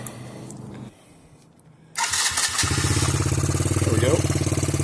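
A Suzuki DR-Z70 dirt bike, freshly fitted with a new carburetor, catches after a kick start and settles into a loud, steady, close idle following a short quiet lead-in.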